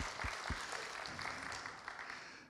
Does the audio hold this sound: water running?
no